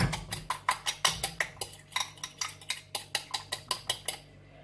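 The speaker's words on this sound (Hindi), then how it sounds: "सब चीजें मिक्स कर लें अच्छी तरह से।" A utensil beats tempura batter for fish in a bowl with baking powder, giving a quick, even run of about twenty sharp clinks that stop near the end, close and clear.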